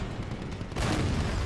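Rapid gunfire in Halo 4, a dense continuous barrage of shots that grows louder partway through, harsh and close with no pauses.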